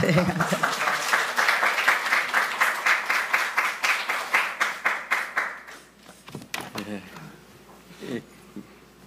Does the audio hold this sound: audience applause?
yes